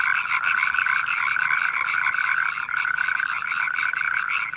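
An American bullfrog calling, a continuous rapid trilling croak held steady and loud throughout, heard alone without voices.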